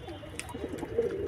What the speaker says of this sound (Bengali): দেখুন এই গিরিবাজ পায়রা দেখুন, খুব ভালো উড়ে এই পায়রাগুলো।